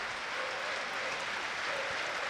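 Home supporters applauding at a Luton Town versus Leeds United football match, a steady wash of clapping filling the stadium from start to finish, fairly loud and even with no voices on top.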